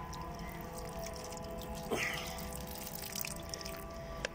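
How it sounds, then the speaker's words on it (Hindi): Water being drained off the top of a compost batch, with faint dripping and small splashes, a brief trickle near the middle and a sharp drip near the end, all quiet and close. "इसका पानी हम ऊपर से ड्रेन करते हैं।"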